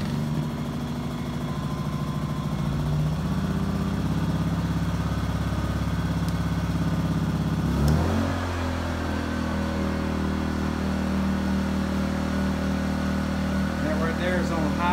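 A Predator 2000W portable generator running steadily, a continuous engine hum with a slight shift in tone midway, heard close and alone without talk.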